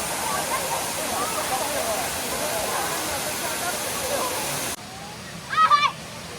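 Rushing water of Erawan Waterfall in Erawan National Park, Thailand, a dense steady roar that cuts off abruptly near the end, followed by quieter ambience and a brief chirping bird call.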